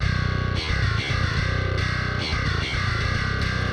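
A djent bass software instrument on its grit tone setting plays chugging low notes with short gaps, loud, gritty and distorted, with no voices.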